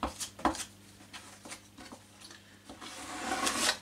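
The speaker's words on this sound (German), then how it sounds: "Mit so einem feinen Spachtel, so kratze ich das jetzt." Fine spatula scraping filler across an OSB board, giving a few short dry rasping strokes early on and then a longer, louder sustained scrape near the end, close up.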